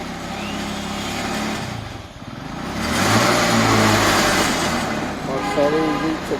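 An auto-rickshaw fitted with a motorcycle engine that runs on octane and petrol, heard as a loud close engine drone that dips briefly and then swells again as it revs and accelerates.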